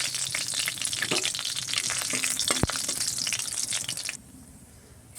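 A dried red chili with cinnamon, cardamom and cloves tempering in hot mustard oil, a loud crackling sizzle with sharp pops and stirring scrapes close by, dropping abruptly to a quieter hiss near the end.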